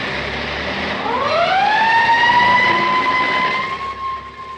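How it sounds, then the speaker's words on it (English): A fire engine siren rises from about one second in and holds a steady, loud wail above a low background rumble. "those are the sounds of a school bell and fire engine"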